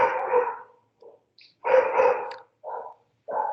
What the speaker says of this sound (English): Let me just get my dog to shush.